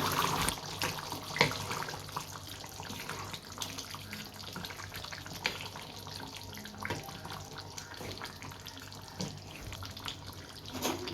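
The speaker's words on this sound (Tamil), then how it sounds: "இது நல்லா கொதி வந்துட்டுருக்கு" A pot of ground masala for beef chukka boils on the stove, a soft, steady bubbling and gurgling heard faintly at close range with no talk over it.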